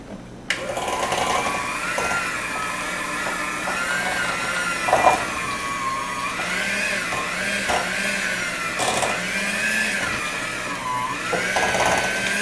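An electric mixer blends sugar-free cheesecake batter with sweetener in a steady, close, loud motor whir that rises and dips slightly as the beaters work through the mixture, with no talking.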